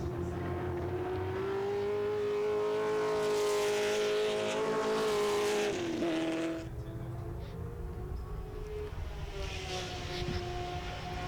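Ford GT40 race cars at Silverstone roar past in a sustained loud engine howl that rises, then drops sharply as a car passes, followed by quieter engine drone further off.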